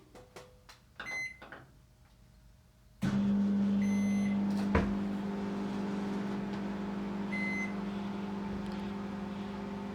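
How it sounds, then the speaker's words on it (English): A microwave oven starts with a clunk and settles into a loud, steady hum, preceded by a few faint beeps and followed by continuous whirring. "I'm gonna switch on the microwave."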